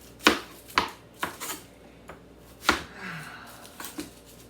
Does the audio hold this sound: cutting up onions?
yes